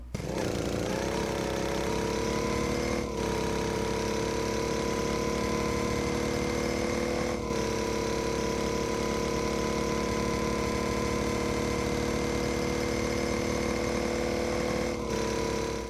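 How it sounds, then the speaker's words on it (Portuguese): Go Kart engine sound unlocked in the Rocket League video game: a steady, loud, buzzing engine drone that holds the same pitch throughout, broken only by a few brief dropouts. "Um deles é esse som aqui, que é o Go Kart, mano."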